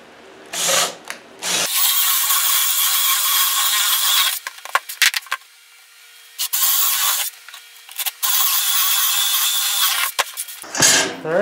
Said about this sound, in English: I'm going to have to use my hand drill